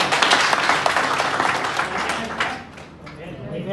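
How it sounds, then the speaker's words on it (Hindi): An audience claps together in a dense, continuous burst that stays loud before tapering slightly toward the end, with a voice talking over it. "इसके लिए ताली बजा दो"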